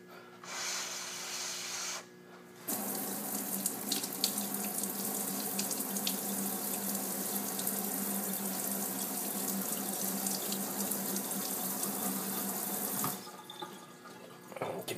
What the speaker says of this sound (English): we're going to rinse it again and get off all that ash residue on there.